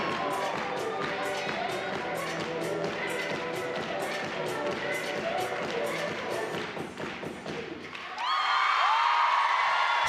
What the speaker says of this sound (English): You see her teammates there on the sideline clapping along with her.